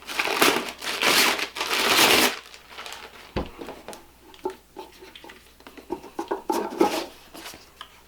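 A plastic bag wrapper is crinkled and peeled off a stainless steel device, loud crumpling at first, then softer scattered rustles and taps close by with no talking.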